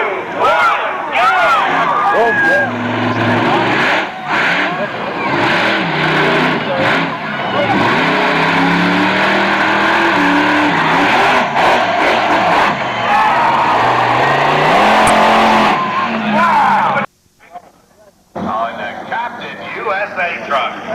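Monster truck engine revving hard at the launch of a timed run at a motorsports park monster truck show, a loud sustained roar with a rising pitch over crowd noise and an announcer, cutting off briefly near the end.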